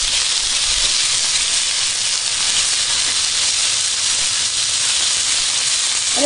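Vegetables for a stir fry cook in a pan with a steady, loud hiss that continues without a break, like constant sizzling, and no talking is heard.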